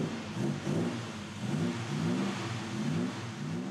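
A classic BMW 507 engine revs in repeated rising and falling bursts, a throaty mid-pitched blare heard close up with no voices over it.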